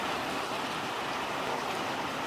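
Heavy rain pouring down outdoors near a creek, a dense, steady hiss of falling water, loud and close, with no talking.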